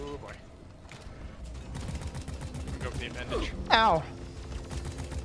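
Gunfire in Deep Rock Galactic against teleporting creatures: scattered mid-level shots and clattering bursts mixed with game effects and a rising squeal, under excited talk and a pained shout.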